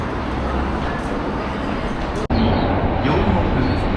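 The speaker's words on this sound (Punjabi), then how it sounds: "ਚਲੋ ਆ ਮੈਟਰੋ ਆ ਗਈ" A metro train arrives at a station in Japan, rumbling steadily nearby with broadband rolling noise, a brief dropout midway, then continuing with faint squeals and station ambience.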